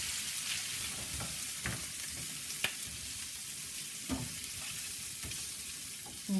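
Seasoned shrimp and tuna fry in a pan, a steady close sizzle with scattered scraping and clicking strokes as a utensil stirs them.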